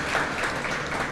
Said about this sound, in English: another round of applause for all of our Franklin County partners, collaborators, and residents